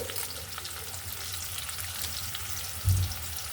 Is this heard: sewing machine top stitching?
no